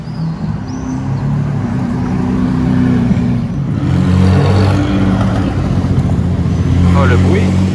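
A Bugatti Chiron Sport's W16 engine rumbles and revs loudly nearby in Monaco, its deep drone swelling and settling over several seconds.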